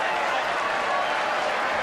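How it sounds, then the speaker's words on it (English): A tennis crowd at a Rome semi-final applauds and cheers Moya, a dense, steady wash of clapping filling the whole moment, with a commentator's voice running over it. "And Moya here cheered to the echo by this crowd."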